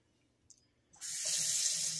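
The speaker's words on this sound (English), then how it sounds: "Turn your water on to medium." A faucet is turned on after a brief clunk, and water pours steadily at medium flow into a sink with a bright, hissing rush.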